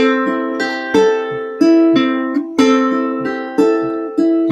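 Steady fingerpicked ukulele pattern, notes plucked one after another in a repeating rhythm, clear and close with chords shifting along the way.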